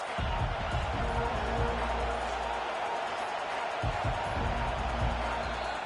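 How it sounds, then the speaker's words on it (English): A college basketball crowd roars continuously in an arena during a Vanderbilt versus Notre Dame game, loud and sustained as the fans try to rally their defense, with a commentator's voice and faint ball bounces beneath the din. "Listen to this crowd just shaking the girders of this place, trying to help their defense."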